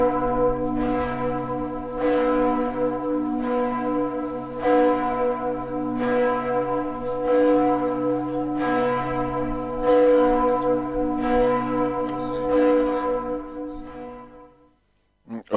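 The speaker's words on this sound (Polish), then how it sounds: "możemy posłuchać, jak dzwoni dzwon katedry w Strasburgu" The great bell of Strasbourg Cathedral tolls outdoors, deep resonant strokes repeating steadily about every second and a half, loud and ringing on with a long hum beneath.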